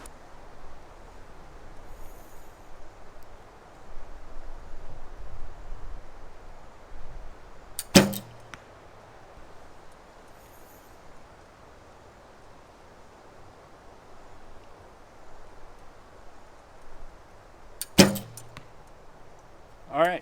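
Arrows loosed from a recurve bow with wood or foam limbs, each shot a sharp snap and thud into a target, two clear releases spaced well apart over a quiet outdoor background.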